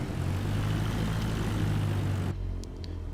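A Cessna 172 piston engine drones loud and steady as the plane taxis off the runway at Olive Branch Airport. The roar eases to a lower level near the end, with no talk.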